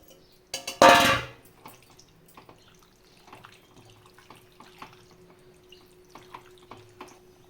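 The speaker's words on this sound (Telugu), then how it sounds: "కొన్ని వాటరు కలుపుకొని ఇలా వేసేసుకోవచ్చు" Water poured into a pan of raw prawn curry on the stove, a short loud splashing gush followed by soft scattered bubbling and clinks.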